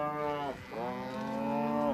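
Cattle mooing during a ranch branding roundup, two long, close, droning moos with a brief break between them, loud and clear with no talk.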